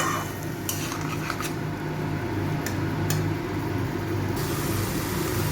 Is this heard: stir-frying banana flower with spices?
yes